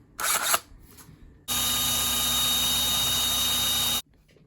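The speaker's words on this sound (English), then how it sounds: "I think next I'm gonna drill these holes." A power drill whirs steadily for about two and a half seconds, loud and close, drilling holes in a homemade fishing lure after brief handling clatter; it stops abruptly, leaving quiet room noise.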